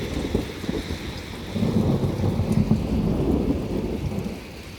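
A thunderstorm rolls over a neighborhood yard, low rumbling thunder swelling and lingering over a steady wash of falling rain, heavy and continuous with no voices.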